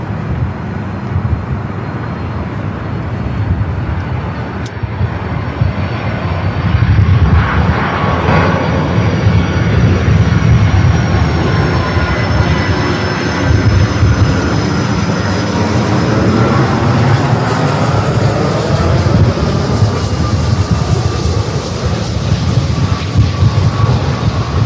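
An airliner on approach to land on a runway roars loudly and steadily throughout, a continuous jet engine rush with a slowly shifting whine and no talk over it.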